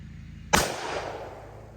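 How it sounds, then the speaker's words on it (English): A single loud shot from a Smith & Wesson Mountain Gun revolver in .41 Magnum firing Underwood 210-grain XTP ammunition, a sharp blast followed by a long rolling outdoor echo. "let's see what kind of performance we get out of the Smith & Wesson mountain gun"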